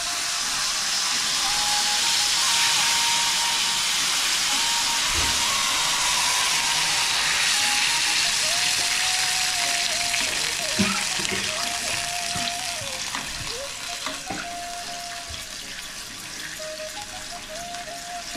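Water is poured into a hot chilli and curry leaf tempering with sugar for khaman dhokla. A loud, rushing hiss and bubble rises at once, then slowly settles to a quieter simmer with a few clinks near the end.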